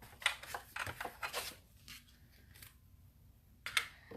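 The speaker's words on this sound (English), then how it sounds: "And so that's cut, and now I'm going to cut the flowers." Cardstock flowers and leaves being cut with a die give crisp, close, quiet bursts of scraping and rustling, clustered early and returning near the end after a lull.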